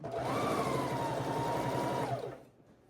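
A sewing machine stitches along the edge of a trimmed quilt's binding, a steady continuous motor whir with a rising tone that runs for about two seconds, then stops abruptly.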